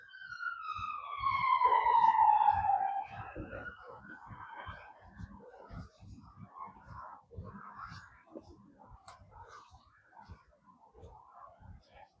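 An ambulance siren passes near an old Glasgow park, a loud wailing tone that drops in pitch and fades within a few seconds. Quiet movement and faint ambient noise follow.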